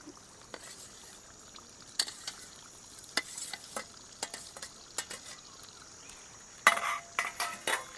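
Fried onions being stirred into an onion gravy in a pan, with a soft background sizzle and a series of sharp scraping and clinking strokes of a spoon against the pan, irregular and close.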